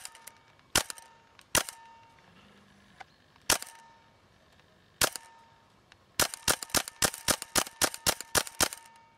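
An M4 Tippmann airsoft rifle fires BBs in sharp, loud cracks, first a few spaced single shots, then a quick run of about a dozen evenly paced shots, close with no talk.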